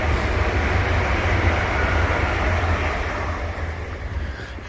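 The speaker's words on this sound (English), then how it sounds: "Oh look, there's the train." A train passes on a railway line beside a walking path at Bathpool in Somerset, a steady loud rumble with heavy low roar and broad noise that eases slightly toward the end, with no voices.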